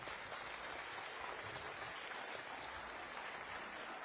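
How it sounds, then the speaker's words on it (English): Audience applause at a science awards ceremony, a steady wash of clapping that holds evenly throughout, fairly faint with no voices over it. "Give them a big round of applause."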